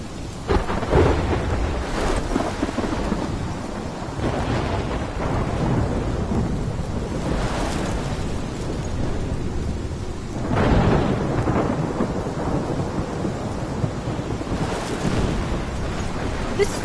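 Loud thunderstorm with heavy rain in the video game Life Is Strange Remastered, a dense constant downpour broken by several booming thunder crashes spaced a few seconds apart, no voices.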